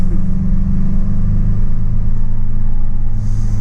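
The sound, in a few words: Toyota Echo car engine accelerating while driving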